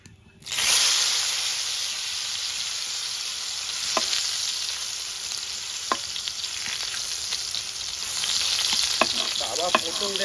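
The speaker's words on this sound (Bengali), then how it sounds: "এখন পটলগুলো তেলে ভালো মতন ভাজলাম।" Pointed gourd (potol) pieces hit hot oil and burst into a loud, steady sizzle, with a few sharp clicks of stirring and the frying growing stronger toward the end.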